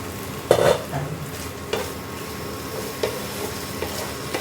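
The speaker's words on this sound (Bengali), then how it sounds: "এবার একটু নাড়িয়ে নেব, নাড়িয়ে নেব।" A spoon stirs banana flower curry (mochar ghonta) in a pan over low flame, with a few distinct scraping strokes over a quiet, soft sizzle.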